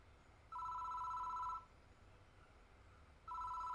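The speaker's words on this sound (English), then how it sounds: "The phone rings." A telephone rings in the horror game Death Mark, two long electronic double-tone trills about a second apart each, clear and moderately loud over a quiet background.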